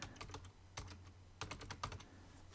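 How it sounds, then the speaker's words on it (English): Soft clicking of a computer keyboard as a domain name is entered, short irregular clusters of keystrokes with pauses between them, quiet and close with a faint low hum underneath. "we're going to type a domain name that we want to register in here"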